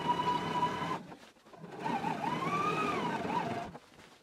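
Sewing machine running two short bursts of stitching along the seam allowance of an anorak, a steady mechanical whir that stops, pauses, then resumes with a rising hum, close and moderately loud.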